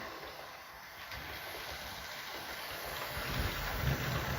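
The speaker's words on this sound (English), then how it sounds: "we will start with the 28XX, absolutely gorgeous loco. It's a freight loco, but it's going to be pulling some passengers today" A 28XX freight locomotive on a model railway rolls steadily along the track, giving off a continuous close rumble with a faint hiss that grows slightly louder toward the end, and no voices are heard.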